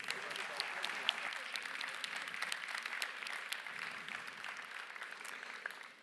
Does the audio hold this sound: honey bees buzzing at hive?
no